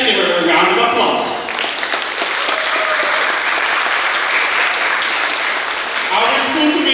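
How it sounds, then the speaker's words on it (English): Loud, sustained audience applause at a high school graduation ceremony after a tribute, a thick wash of many hands clapping for about seven seconds that eases slightly toward the end. "Once again, let's give her a round of applause."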